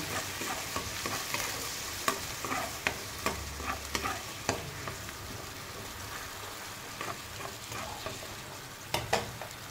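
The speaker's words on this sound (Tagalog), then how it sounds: "ilagay natin yung ating pinababara na toyo na may bawang. Pakukuluin lang natin." Soy sauce with garlic simmers and sizzles in a frying pan while a utensil stirs, giving a steady crackle broken by sharp, repeated scraping clicks close by.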